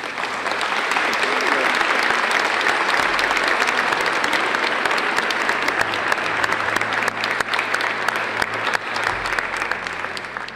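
Wedding guests in a church break into sustained, dense applause that carries steadily from start to finish, with some voices mixed into the clapping.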